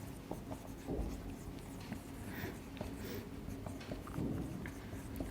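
A pen scratches across paper while a maths problem is worked out, soft continuous strokes with small taps and pauses, close and quiet throughout.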